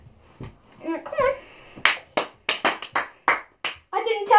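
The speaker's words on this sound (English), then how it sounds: "Didn't tell you to clap your hands." Children clap their hands in a series of sharp, close bursts during a game of Simon says, with excited young voices talking and calling out around the claps.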